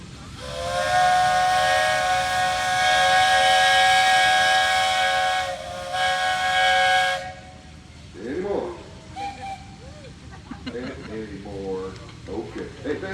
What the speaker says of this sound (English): Josh, you got a whistle up there in Maryland